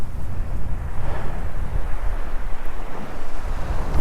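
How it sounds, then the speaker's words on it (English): Strong wind at sea roars continuously across the microphone during fishing, gusting and buffeting, with a low rumble of surf or open water beneath. "It is windy."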